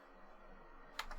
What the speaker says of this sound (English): because I'm typing at the top